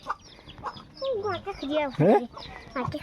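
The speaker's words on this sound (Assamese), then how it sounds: "সেইকেইটা কক পোৱালি ধৰিবি নি এই কক পোৱালি চাই" Chickens and chicks cluck and cheep close by in a hillside village, giving a few short rising and falling calls in quick bursts with soft background noise between them.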